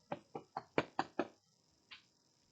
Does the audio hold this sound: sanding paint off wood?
no